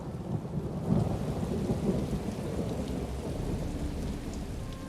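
Thunderstorm in The Elder Scrolls Online: Summerset, with steady heavy rain and deep rolling thunder rumbling throughout, a louder crack near the one-second mark, continuous and fairly close.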